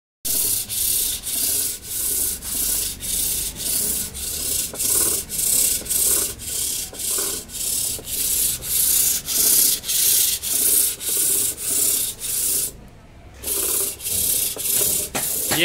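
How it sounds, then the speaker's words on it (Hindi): Steady rhythmic sanding of a wooden kite spool (charkhi) at a Jaipur workshop, with regular back-and-forth abrasive strokes about every half second and one short pause near the end. "इसकी घिसाई कर रहे हैं साहब, इसके बाद में पॉलिश करेंगे"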